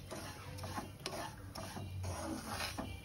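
Semolina being stirred and fried in a pan for gond suji halwa gives a soft, steady scraping and rasping, with repeated spoon strokes against the pan at a low level.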